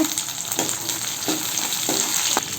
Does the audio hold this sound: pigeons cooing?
no